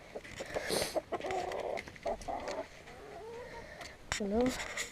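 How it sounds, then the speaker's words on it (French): A rooster let out among hens in a backyard animal pen gives clucks and short, rising calls close by, mixed with a person talking. "Sortir le coq avec les poules."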